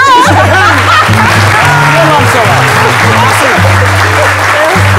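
Loud applause for Dr Philo, dense clapping with some laughter and chatter mixed in, while a voice speaks over it the whole time.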